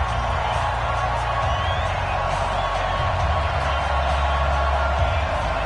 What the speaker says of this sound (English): This crowd is ready as their guys get set to match up between the Dallas Cowboys and the Green Bay Packers.